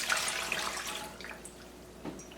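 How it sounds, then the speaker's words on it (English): Water poured into a Vitamix blender jar, a short burst of splashing and trickling that starts fairly loud and fades, with a small splash near the end, no talking. "if I fill it up halfway with water"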